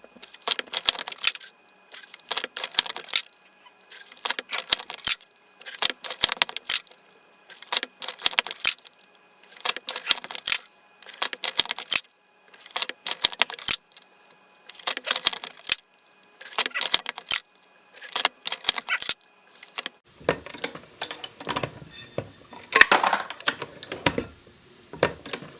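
A reloading press cycles through 300 Blackout rounds loaded with cast Lee 312155 bullets and Alliant 2400 powder, giving a steady run of close metallic clacks and clinks in regular bursts, ending in a denser jangling rattle.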